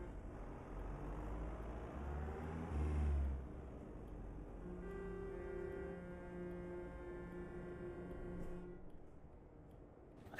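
A manual-transmission car stalls while turning left: a low engine rumble surges into a brief heavy shudder, then gives way to a steadier droning hum inside the cabin, with no talking.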